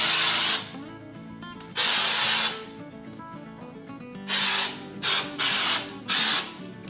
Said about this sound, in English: Spray a little bit around where you're going so that it blends out into the existing wall